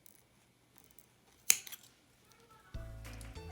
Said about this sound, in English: So now I'm going to cut this yarn